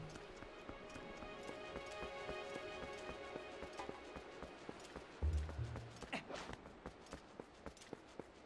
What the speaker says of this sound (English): Oh, the horse is still here.